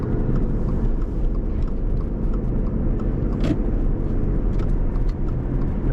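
A car driving slowly through the Edgemont at Serenoa housing development in Clermont, Florida, a steady loud interior road rumble with engine drone throughout and no talking.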